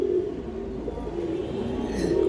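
Pigeons coo steadily in a low, throaty murmur, a pair of old-breed kanthi (necklace-throated) birds, a cock and hen, on a fancier's farm, with the cooing continuous and fairly close throughout.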